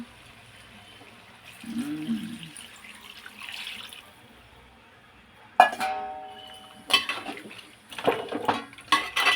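Water splashes into softened tomatoes in a cooking pot for a tomato curry, arriving in several close, sharp bursts of pouring and splashing with metallic clinks between them, after a quiet stretch.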